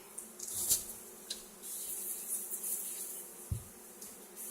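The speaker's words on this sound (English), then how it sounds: "Try to chase the bees off." Bees buzz steadily around exposed honeycomb during a structural hive rescue, a continuous close insect drone with a few brief bumps and knocks, no talking.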